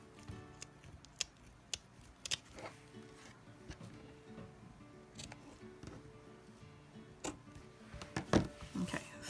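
Tim Holtz scissors cutting through paper and fiber tassel material, with scattered crisp snips and clicks close by, fairly quiet, a few sharper cuts near the end.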